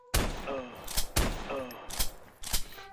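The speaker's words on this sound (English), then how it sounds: "now we can switch back to my personal favorite weapon, the shotgun. I hope if I reload first." A shotgun fires in a video game, sharp loud blasts in a quick uneven series of about four, each followed by short mechanical clicks of pumping or reloading.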